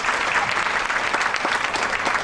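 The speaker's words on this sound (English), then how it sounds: "Let's give Pat a nice warm round of applause." An audience claps in a steady, dense round of applause welcoming a volunteer named Pat onstage, sustained and fairly loud throughout with no voices on top.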